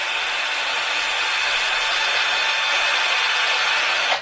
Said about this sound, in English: Just slide that to the front, pinching it, and this will polish the stainless steel needle up.